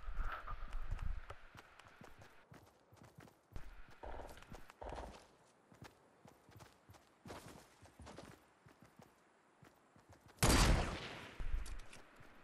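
Scattered gunshots and footstep-like clatter in a multiplayer shooter, mostly moderate and distant, with one louder, sharper crack near the end that fits a sniper rifle shot, and no one talking.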